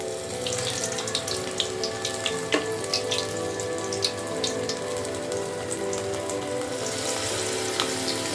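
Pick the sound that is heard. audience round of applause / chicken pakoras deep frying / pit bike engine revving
chicken pakoras deep frying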